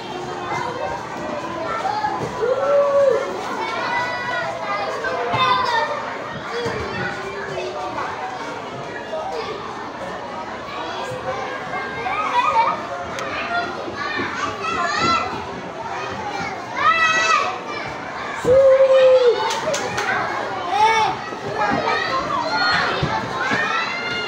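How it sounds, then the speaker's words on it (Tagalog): A group of children plays nearby, a lively, continuous mix of chatter, shouts and squeals that rises and falls, with occasional high-pitched cries standing out. "Ingay ng mga bata."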